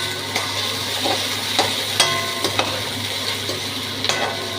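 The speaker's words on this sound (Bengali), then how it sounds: "আলুগুলোকে ভাজতে দিয়ে দিয়েছি" Two large potatoes fry in hot oil in a pan, a close, steady sizzle broken by several soft scraping stirs and light clinks, with no talk.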